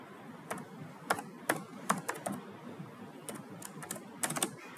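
Code being typed on a computer keyboard, irregular bursts of sharp key clicks with short pauses between, close and clear over a quiet background hum.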